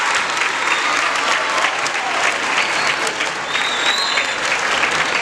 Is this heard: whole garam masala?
no